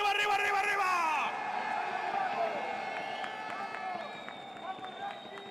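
A crowd at a Call of Duty watch party cheers for Miami with loud whoops and yells that blend into a sustained roar, then fade into lower crowd noise over a few seconds.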